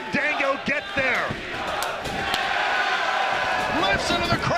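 A TNA wrestler is slammed onto the mat with a towering back body drop in front of a Toronto crowd. Several sharp thuds land among steady crowd roar, with an excited commentator talking over it.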